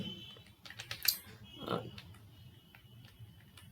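Quick keystrokes on a computer keyboard, typing out an image file name for an HTML image tag, close and fairly quiet, in short uneven bursts with a brief swell of background noise mid-way.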